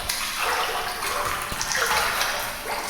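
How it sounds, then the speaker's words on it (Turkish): A man wading through water in an eerie backrooms setting, with continuous sloshing and splashing that rises and falls in steady waves, fairly loud and close with no talking. "Adam sanki suyun içinde yürüyor gibi geliyor. Evet suyun içinde yürüyormuş."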